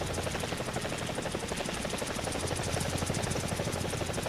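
A War Thunder attack helicopter beats its rotor in a steady, rapid whop with a turbine whine underneath, loud and constant from start to end, with no voices.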